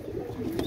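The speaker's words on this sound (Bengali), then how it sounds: "আপনারা লক্ষ্য করেন, অনেক সুন্দর কবুতর" Pakistani Rampuri pigeons, a breeding pair kept for sale, cooing softly with low, murmuring coos close by, continuous through the moment with no talk over it.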